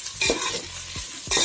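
Half-boiled prawns for biryani stirred and frying in a pan: a loud, close sizzle with three or four quick scraping strokes of the spatula, and no voices.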